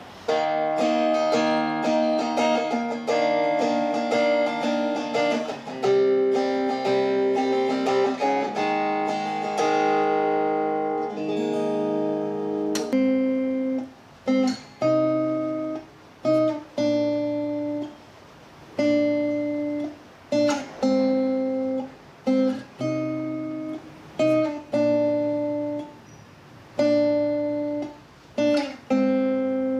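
A Victoria VT-40C 40-inch electric acoustic guitar plays sustained chords at first, then shifts to short, choppy strums separated by brief silences, heard up close.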